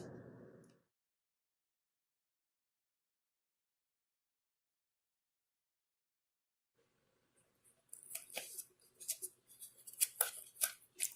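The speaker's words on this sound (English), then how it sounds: "you can cut another strip the same size as this one to make up the difference" Scissors snip through a strip of paper for a small craft piñata, a quick run of crisp, close cuts after a brief voice and a long quiet pause.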